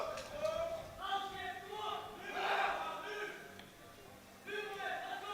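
A crowd at the European Sub-Junior and Junior Classic Powerlifting Championships roars and shouts in surging bursts to hype up a 93 kg lifter, while a commentator talks over the noise.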